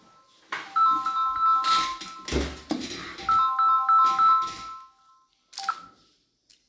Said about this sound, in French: j'ai l'impression qu'il y a quelqu'un qui appelle le téléphone de l'entreprise